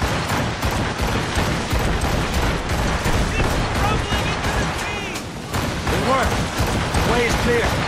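Ship cannon fire in Assassin's Creed Rogue during an icy naval chase, a dense barrage of booming shots rolling over steady game action and music, with a voice talking over it.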